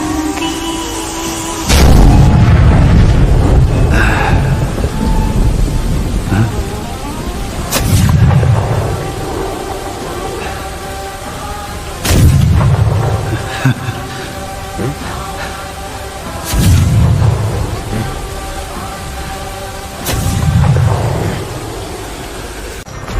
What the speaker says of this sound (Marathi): अरे आम्ही सांगतोय तोफ वाजवा